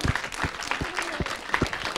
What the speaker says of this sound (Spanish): Aplauso para Beto, por favor.